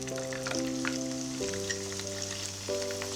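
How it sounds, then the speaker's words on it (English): Green onions, whites then leaves, fry gently in oil in a pot over low heat for scallion oil noodles, making a steady soft sizzle with faint crackles while a droning tonal hum runs underneath. "Be sure to use low heat until the green onions turn golden brown, then turn off the heat."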